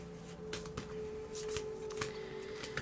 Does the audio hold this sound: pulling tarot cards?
yes